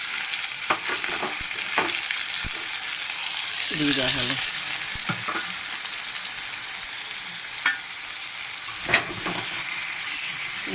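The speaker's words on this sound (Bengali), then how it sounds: "ভালো করে কষাবো।" Onion and garlic paste seasoned with salt and turmeric sautés in a hot pan, giving a steady close sizzle broken by scattered scraping and clicking stirs throughout.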